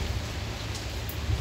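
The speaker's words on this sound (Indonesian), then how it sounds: "Hujan angin ini sekitar" Heavy rain and strong wind of around 30 to 40 knots sweep through a harbour, a steady dense hiss of rainfall over a low, constant windy rumble.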